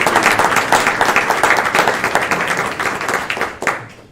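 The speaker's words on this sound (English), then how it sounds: "Let's give her and her support staff a round of applause." Meeting audience clapping hard, a loud dense burst of many hands close by that thins and fades toward the end.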